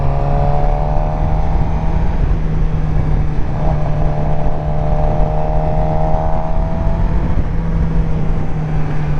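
Sport bike motorcycle accelerating as the rider eases onto the throttle, a steady loud engine drone with rising and falling tones against heavy wind rush, heard up close from the rider's position.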